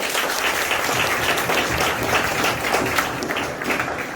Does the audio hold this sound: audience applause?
yes